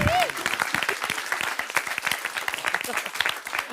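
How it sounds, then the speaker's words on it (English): A studio audience breaks into applause for a late-night show, dense clapping that carries on under a speaking host, moderately loud and close. "I think that deserves a huge round of applause."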